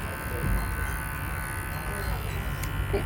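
An electric shaver that is nearly out of power trims a guinea pig's fur, giving a steady close buzzing hum that runs throughout.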